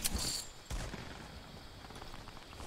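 Gunshots in Fortnite, two sharp, loud cracks close together near the start, then quieter distant shooting and game noise trailing off, no talk.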